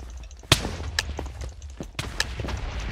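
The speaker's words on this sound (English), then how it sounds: "Oh, I died from explosions." TNT blocks exploding in the video game Minecraft: a rapid series of sharp, booming blasts at irregular intervals, several loud and close, over a continuous low rumble.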